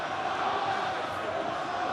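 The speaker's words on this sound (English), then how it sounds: "Now the crowd are getting going." Rugby crowd at a Munster versus Edinburgh match in Cork, a steady roar of cheering and shouting from a large stadium audience, continuous and fairly distant-sounding.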